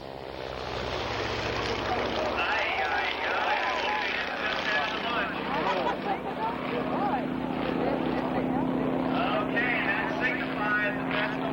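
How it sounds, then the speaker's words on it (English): An early vintage airplane engine drones steadily and loudly at an air show with a grass runway, a continuous propeller buzz with a narrator speaking over it throughout. "Here on a grass runway, some of the most celebrated early airplanes take to the air again."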